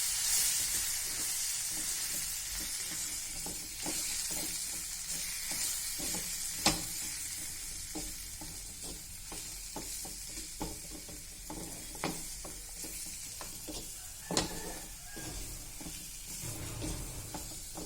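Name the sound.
stirring capsicum vegetable dish in pan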